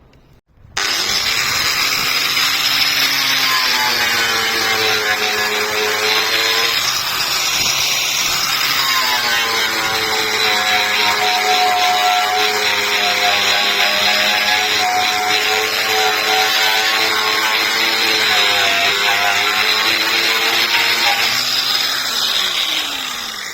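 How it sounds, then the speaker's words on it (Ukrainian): A wire cup brush on a power tool strips rust down to bare metal, a loud continuous whirring grind with shifting pitch as pressure changes, running close and alone for over twenty seconds. "Для початку я вичищаю все каральчиком. Прям повністю отут буду зносити до металу"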